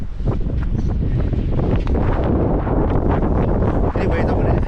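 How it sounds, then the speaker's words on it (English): Strong wind buffets and roars across the microphone outdoors at White Domes Trailhead in Valley of Fire, steady and loud throughout, with rumbling gusts. "dang, it's really windy out here."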